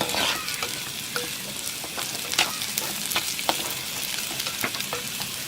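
Onions frying and being stirred in a pan for a Kerala prawn curry, a steady close sizzle broken by repeated sharp scrapes and clicks of a spoon against the pan.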